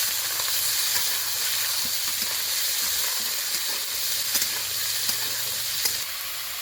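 Cut and washed potatoes sizzle steadily in hot oil in a wok, a continuous close frying hiss with small pops and crackles throughout.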